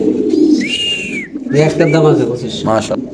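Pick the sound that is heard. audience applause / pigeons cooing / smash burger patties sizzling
pigeons cooing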